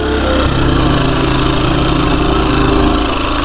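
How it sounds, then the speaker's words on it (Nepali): A motorcycle engine climbs steeply uphill on a village road in Nepal, a loud, close, continuous labouring drone with a shift in pitch near the start and no pauses. "ओहो यो बाइक चाहिँ झाँ पनि उक्लिन्छ फेरि"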